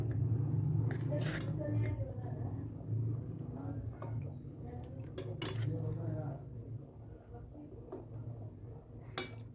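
Cooked rice flour dough scooped out of a kadhai into another pot, with scraping clinks of a metal spoon against vessels while someone talks throughout.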